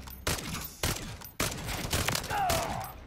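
Gunfire in Call of Duty zombie mode: three sharp, loud shots spaced about half a second apart, followed by a sustained burst of firing, close up and dominating the sound.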